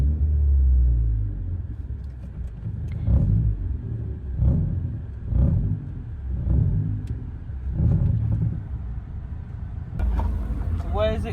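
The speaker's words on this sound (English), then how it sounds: "It sounds like the exhaust has actually dropped, and I think it's resting on the splitter underneath the car." A rebuilt Ford Fiesta ST track car at the Nurburgring with a dropped exhaust resting on the splitter gives a low engine rumble that swells and fades in repeated pulses, with a voice talking over it.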